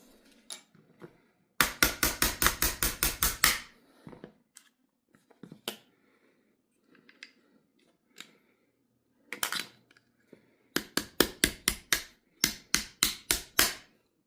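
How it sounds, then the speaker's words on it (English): Small metal taps on a pin being driven back into a Ruger RXM pistol, sharp clicks in fast bursts of eight to ten, separated by quiet gaps and scattered lighter knocks. "push down on it with your finger as you tap the pin back in"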